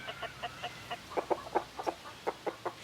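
Chickens on a farm terrace cluck in short, soft bursts, a quick irregular string of nearby clucks over a quiet background.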